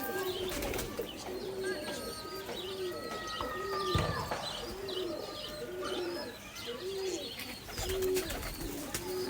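Fantail pigeon chicks coo in a steady, repeating rhythm, with soft chirps and other bird calls scattered around them in a busy loft.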